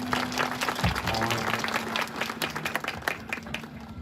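A loud, dense round of applause from an audience at a Dehradun event for the 87th National Table Tennis Championship, continuous clapping with a low steady hum running underneath.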